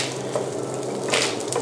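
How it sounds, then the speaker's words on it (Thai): Round Thai eggplants coated in green curry paste stir-frying in a hot pan: a brief, dense, close sizzle with wet squishy crackles, loud and steady throughout, with no voices. "คราวนี้ผมลงเขือเปาะที่เปื้อนพริกแกงของเราเมื่อกี้เอาลงมาผัด"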